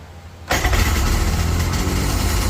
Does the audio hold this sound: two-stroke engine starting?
yes